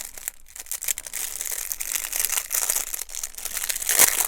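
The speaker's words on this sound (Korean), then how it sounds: "비닐 소리가 굉장히 경쾌합니다" A thin, lightweight recycled biodegradable plastic bag crinkles and rustles continuously up close, with bright crisp crackles and a sharper crunch near the end, and no voices.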